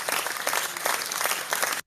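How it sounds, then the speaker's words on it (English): A short burst of steady clapping from a small crowd, fairly close, cutting off abruptly after about two seconds. "Round of applause."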